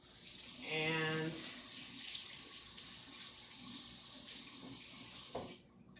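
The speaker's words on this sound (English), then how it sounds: "I just rinsed the pudding right off right away because I always need my whisk." Tap water runs steadily into a kitchen sink as pudding is rinsed off a whisk, a continuous close splashing hiss lasting throughout, with a brief voice-like tone near the start.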